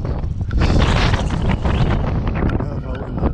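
Strong wind at an abandoned quarry batters the microphone in loud, rough gusts that roar and buffet continuously, swelling and easing over a few seconds.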